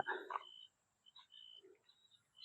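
Frogs croak in a field at dusk, a few faint scattered calls and chirps with quiet gaps between them, distant and sparse in an otherwise still evening.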